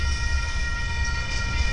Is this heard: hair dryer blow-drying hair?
no